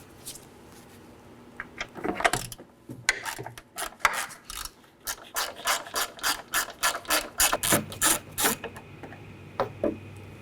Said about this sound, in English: I'm going to locate this 10mm bolt under the headlight. I'll use a ratchet and extension.